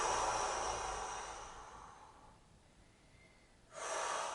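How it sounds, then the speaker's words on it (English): Deep, airy breathing during a seniors' stretching routine: a long exhale fading over about two and a half seconds, a quiet pause, then a fresh breath starting, close and alone. "Keep breathing."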